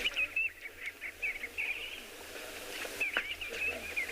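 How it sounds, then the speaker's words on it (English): Namaqua sandgrouse calling at a safari waterhole around sunset, repeated short chirping calls at mid distance in bursts against faint background murmur. "Those are the birds calling, Namakwa sandgrass."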